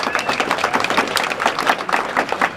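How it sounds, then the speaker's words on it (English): A crowd at an outdoor solidarity gathering in Duluth, Minnesota applauds with dense, steady clapping that carries on evenly throughout. "give them a round of applause for coming on and joining us"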